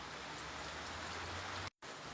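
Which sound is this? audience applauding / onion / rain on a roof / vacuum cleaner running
rain on a roof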